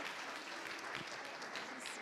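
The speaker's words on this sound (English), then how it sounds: "A round of applause for all of them." Audience applause for competition judges at a research presentation finals event, a soft, distant, even patter of clapping that stays steady throughout with no voices.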